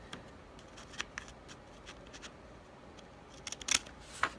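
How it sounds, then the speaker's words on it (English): Scissors cut paper in a few short, crisp snips spaced across the stretch, with one sharper cluster near the end, all fairly faint against a quiet room background. "I've got to have it turned right or I can't cut it."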